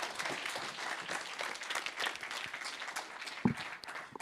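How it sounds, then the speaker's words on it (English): An audience at a university student founder showcase claps in sustained, dense applause that runs throughout, with one sharper clap standing out near the end. "can we just have one last round of applause to all of the founders speaking today?"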